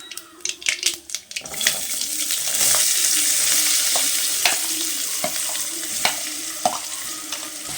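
Onions sizzle in a hot pan after a few sharp clatters of a spoon, the frying hiss steady and close with occasional stirring taps, while making pasta.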